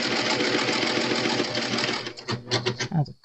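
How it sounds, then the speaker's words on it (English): A serger overlock machine stitches fabric along a curve, a steady dense mechanical whir for about two seconds that then breaks into short stop-and-go bursts as it slows near the end, with no talking. "And now I'm going to continue to serge."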